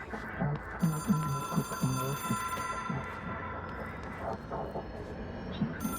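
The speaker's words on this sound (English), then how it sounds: "Answer that phone call." A telephone rings in the video game Control, a steady bright ringing that runs through the whole stretch over a bed of low game ambience and muffled rumbling.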